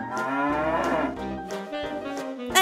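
Cartoon cow gives a long, drawn-out moo with a tonal, sing-song quality, close and clear, followed by a couple of shorter lowing calls.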